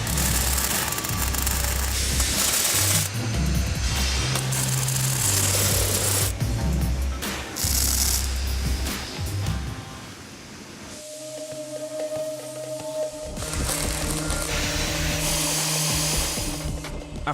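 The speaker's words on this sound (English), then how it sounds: "workers begin welding ties. These ties hold the rails together." Welding and metalwork on the rail ties of a giant inverted boomerang roller coaster in a fabrication shop, with continuous loud industrial hiss, grinding and machine noise, a heavier rumbling section giving way to steady humming tones partway through.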